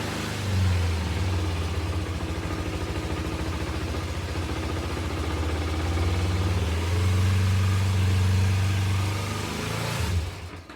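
A Kawasaki Ninja 250 motorcycle being revived after not starting, its small engine running loud and close with a steady rough idle that swells into revs before cutting off near the end.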